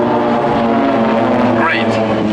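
A Pilatus PC-7 propeller plane of the Swiss Air Force PC-7 team flies a solo display at the Sanicole airshow, its engine roaring loud and continuous while an announcer talks over it.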